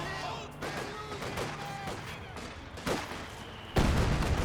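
Explosive blasts and rumbling battle fire from a 120mm mortar in the real-time strategy game Company of Heroes 2, with a heavier boom near the end amid continuous combat noise.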